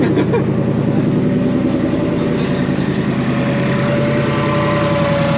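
A 2024 Ford Mustang Dark Horse with a freshly installed Whipple supercharger idles loud and close, a steady unbroken engine drone with a throaty, even pulse and no speech.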